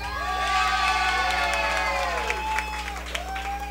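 A live audience at a show cheers, whoops and claps to vote for Happy Paper, a dense sustained crowd roar with scattered shouts and whistling whoops over a low hum.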